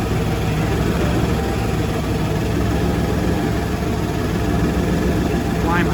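An engine on test idles with a steady, deep, droning rumble, its idle speed hunting slightly. The sound is loud, close and continuous from start to finish.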